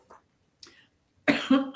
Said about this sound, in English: I might have to step out of the room and cough for a second